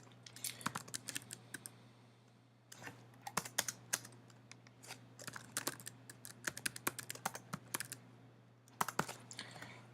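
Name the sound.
typing code on a computer keyboard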